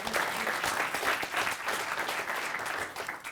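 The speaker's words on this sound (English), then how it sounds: "Give him another big round of applause, Evan." A press-conference audience applauds a young boxer at a boxing title-belt national qualifier, steady dense clapping filling the whole moment at moderate volume with no voices over it.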